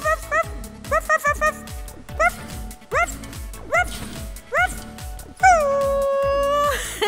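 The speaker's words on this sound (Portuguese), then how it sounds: "Dog! É cachorro em inglês!" A dog in a Portuguese-language children's educational show gives a run of short, rising yips and barks, then ends with one long, drawn-out whimpering whine. The sounds are close and clear.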